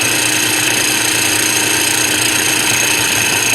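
A small nut processor chops cauliflower into fine pieces, a continuous loud motorized whir with a steady high-pitched whine, running unbroken and close throughout.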